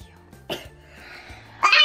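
A child sneezes once, sharp and close, in a quiet indoor room, followed by a brief louder burst.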